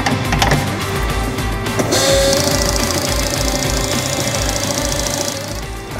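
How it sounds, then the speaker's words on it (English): Set of Bosch fuel injectors firing on an injector flow test bench, a steady rapid mechanical ticking and buzzing hum with a high whine, continuous and fairly loud throughout. "we'll flow a set of Bosch injectors"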